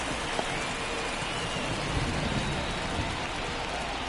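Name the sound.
rain falling in MLB 24 The Show video game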